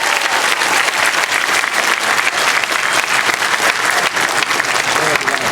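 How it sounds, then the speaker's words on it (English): An audience gives a steady, dense round of applause for Aaron at a send-off party, loud and continuous throughout, with some crowd voices mixed into the clapping. "Everybody give Aaron a round of applause."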